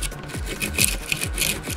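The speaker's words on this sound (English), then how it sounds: "you really want to get in here and kind of scrub this" Scrubbing of 3D printer parts by hand with a brush, a rhythmic run of close, rough rubbing strokes repeating about every half second, steady and fairly loud with no talking.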